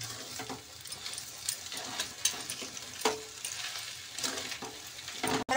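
A fresh coconut and sugar mixture, with milk powder, sizzles softly in a pan while it is stirred continuously, with faint scraping strokes and a sharp clank near the end.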